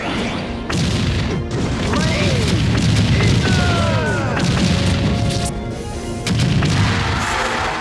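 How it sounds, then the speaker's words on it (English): Ike's Great Aether final smash in Super Smash Bros. Brawl ends in a loud explosion, with crashing booms and whooshing game effects over busy sound throughout. "that impact, yeah, it causes an explosion"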